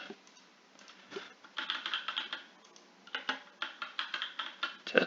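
Fingers typing a short name on a computer keyboard, a quick run of close key clicks in two bursts after a brief pause.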